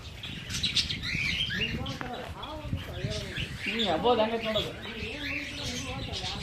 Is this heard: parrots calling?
yes